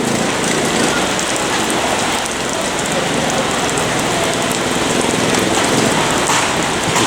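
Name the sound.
rain falling at market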